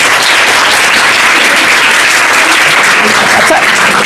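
An audience applauds an announcement to a room of students with steady, loud, continuous clapping that holds at a constant level throughout, close and dense, with no pauses.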